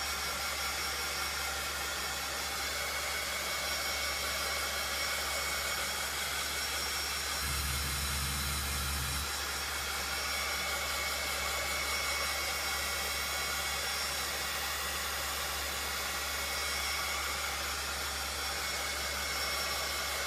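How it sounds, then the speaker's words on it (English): A heat tool blows steadily for about twenty seconds, drying orange chalk paste on a Dollar Tree Halloween plaid pumpkin, with a brief louder low surge partway through. "I'm going to grab my heat tool again, and I'm going to get this all nice and dried up"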